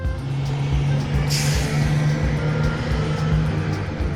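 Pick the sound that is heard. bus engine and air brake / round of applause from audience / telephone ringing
bus engine and air brake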